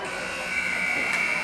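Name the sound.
final buzzer at ice hockey game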